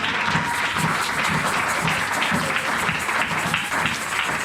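A church congregation applauds loudly and steadily during a worship service, a dense continuous wash of clapping that holds throughout without a break.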